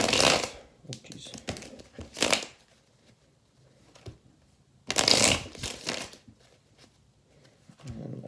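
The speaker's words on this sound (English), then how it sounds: "And my shuffle." Tarot cards being shuffled in a few quick riffling bursts, close by, with quiet pauses between them and faint movement underneath.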